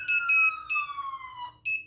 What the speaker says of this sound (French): il faut que j'éteigne l'alarme